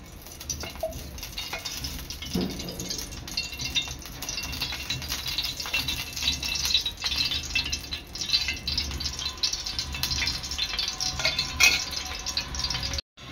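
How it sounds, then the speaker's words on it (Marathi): Cooking oil, three to four ladlefuls, heats in a hot tava for chicken tandoor masala, giving a steady low sizzle and crackle with faint clinks throughout, no voices. "आता इथे तवा चांगला आपला गरम झालेला आहे, त्यामध्ये टाकणार आहे मी 3 ते 4 पळ्या तेल।"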